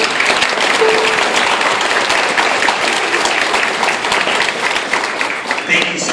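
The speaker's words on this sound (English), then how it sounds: "if we could give him a round of applause for his work" Audience at a school orchestra concert applauds steadily for about six seconds, dense, even clapping that fills the hall, with some voices mixed into the ovation.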